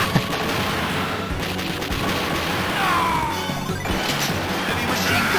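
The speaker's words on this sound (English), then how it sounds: "Heavy machine gun. Pay attention to those bullets." Dense, continuous bursts of heavy machine gun fire and explosions from the Metal Slug arcade game rattle on without pause, loud and chaotic.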